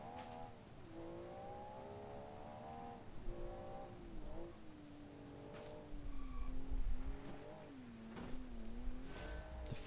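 A rally car in the Classic Rally Competition game drives steadily, its engine droning and shifting pitch through gear changes and throttle lifts, with a few short clicks and bumps along the way.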